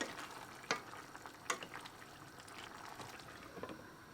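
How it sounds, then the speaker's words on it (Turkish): Chickpeas being stirred into a cooking pot, a few faint scraping clacks of a spoon against the pot over a low, quiet sizzle. "Şöyle nohutları kattıktan sonra da iyice bir karıştırıyorum"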